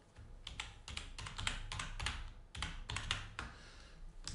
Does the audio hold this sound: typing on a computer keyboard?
yes